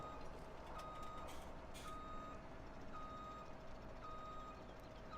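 Repeated electronic reversing beeps from a farm vehicle backing up to a trailer in Farming Simulator 17, sounding at a steady interval over a constant low engine rumble.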